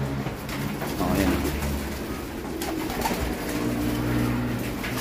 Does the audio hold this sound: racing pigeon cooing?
yes